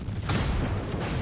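Warship guns firing in World of Warships, a deep booming blast that rolls into a sustained low rumble with a second muffled thump near the end, loud and close.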